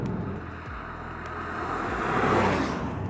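A Porsche 911 Carrera's engine runs with a low, steady hum that swells gradually, with wind noise over the microphone and no talking.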